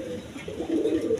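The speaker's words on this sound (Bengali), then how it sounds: "এক পেয়ার বোম্বাই ইন্ডিয়ান বোম্বাই কবুতর আছে, দেখেন দুইটা ডিম নিয়ে বসে রয়েছে" A pair of Bombay Indian pigeons sitting on two eggs give low, throaty coos, a soft burbling phrase that grows a little louder toward the end.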